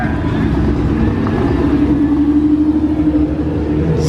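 Several sports car engines, compared to Mustangs, rumble steadily at close range at an early morning car show, a continuous low drone with no clear revving.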